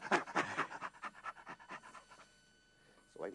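A man imitates a low-level chimpanzee laugh with rapid rhythmic breathy panting bursts, close and fairly quiet, trailing off into a pause before another breath.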